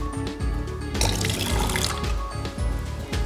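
Water runs from the outlet of a GENAQ Nimbus N500 atmospheric water generator, a continuous splashing pour with a gurgling, filling quality that holds steady and close throughout.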